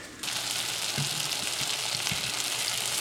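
Tofu pieces frying in a pan for kimchi jjigae, a brisk even sizzle that starts abruptly and holds steady, close and clear, with a few faint clinks and no talking.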